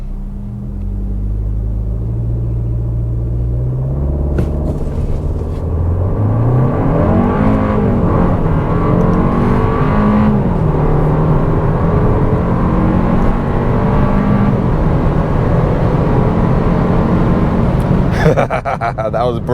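A 2026 Kia K4 hatchback with a 1.6 turbo launches from a brake-boosted stop and pulls hard from 0 to 60, engine note climbing steadily with a gear change, heard from inside over continuous road rumble.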